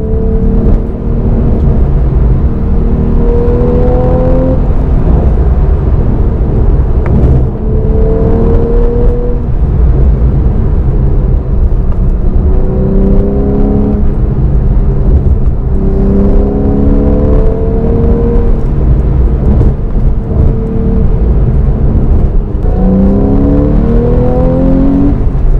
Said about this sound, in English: You can hear the sound of the engine, but man, it sounds fantastic.